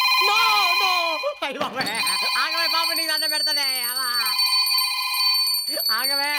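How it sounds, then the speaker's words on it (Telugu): A phone ringtone plays, a steady electronic melody of layered tones repeating loudly throughout, with a brief burst of voices and movement partway through. "ఇది నీ ఫోన్ రింగ్ వినపడుతుందా?"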